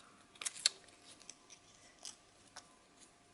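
Scissors snip through scrapbooking paper, cutting two sheets together, in a few crisp close clicks and short snips spaced irregularly, with light paper rustle in a quiet room.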